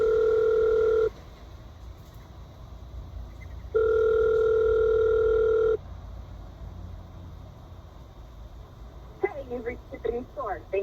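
Outgoing phone call ringback tone, two long steady beeps separated by a pause, loud and clear, followed by quieter line noise and a brief voice at the end.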